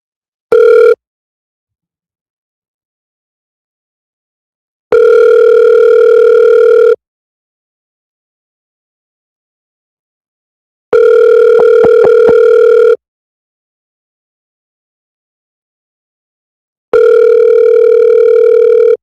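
A phone call's ringback tone sounds in four loud, steady two-second bursts separated by about four seconds of silence, clean and close with no talking.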